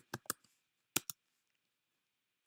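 A few sharp clicks of computer keyboard typing, three to four quick keystrokes, a pause, two more, then one final key press, close and fairly quiet with no talking.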